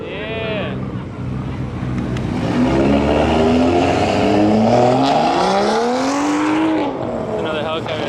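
At a car meet, a car revs hard for a burnout, its engine climbing through rising, sweeping pitches and holding a loud, strained roar before dropping off, heard close with wind buffeting the microphone and voices underneath.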